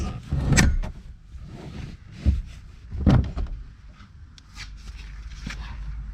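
Front seats being pulled out of a VW MK3 GTI: a series of scattered thumps, scrapes and rustles from seat and interior trim, with a few sharper knocks spaced irregularly, close by and alone.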